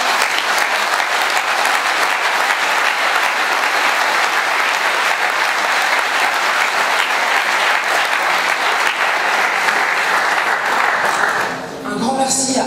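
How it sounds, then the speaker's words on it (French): A crowd at a gathering honouring women who lead struggles bursts into loud, dense, sustained applause that continues for over ten seconds before fading, with a voice coming in at the end. "si on pouvait les applaudir"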